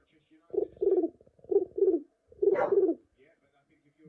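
A man imitates a pigeon cooing with his voice, three close, low throaty coo phrases, each doubled, in a quiet room.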